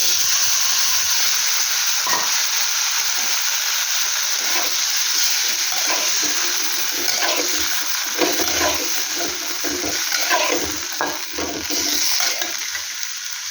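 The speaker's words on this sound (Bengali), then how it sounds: "আঁচটাকে একটু বাড়িয়ে দেব, একটু বাড়িয়ে দিয়ে এটাকে ভালো করে ফ্রাই করবো" Vegetables fry in a pan with black cumin and green chilli, giving a steady loud sizzle and hiss with occasional stirring scrapes throughout, close up and without speech.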